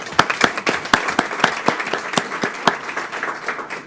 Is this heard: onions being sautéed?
no